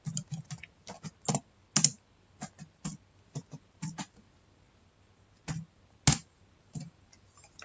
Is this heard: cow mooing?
no